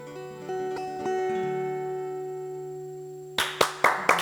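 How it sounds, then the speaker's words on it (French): A sustained voice-and-violin passage rings out and dies away, then an audience breaks into applause for the duo, a few sharp bursts of clapping arriving close together at the very end. "applaudissements, bravo à tous les deux"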